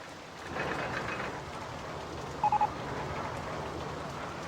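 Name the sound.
rain in the video game RollerCoaster Tycoon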